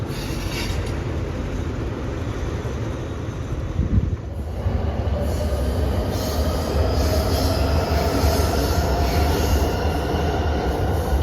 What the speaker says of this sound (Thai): รถด่วนพิเศษขบวนที่สามหนึ่งขึ้นกรุงเทพอภิวัตนะฮะ